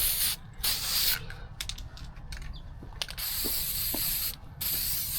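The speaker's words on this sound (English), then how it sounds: "We're just going around doing kind of a light dust coat." Light dust coats of spray paint go onto a Corvette vacuum tank in short bursts of hissing spray. Intermittent clicks and mechanical handling noises sound between the bursts, with no talk.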